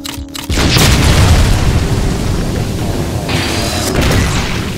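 A heavy explosion booms in the video game Ultimate Doom, a loud blast that lands suddenly after a brief lead-in and leaves a long, rumbling roar with a faint tonal whine layered in toward the end.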